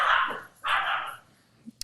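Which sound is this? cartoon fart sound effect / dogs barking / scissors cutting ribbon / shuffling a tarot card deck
dogs barking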